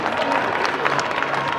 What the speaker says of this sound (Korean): 다시 한번 뜨거운 박수 보내주시기 바랍니다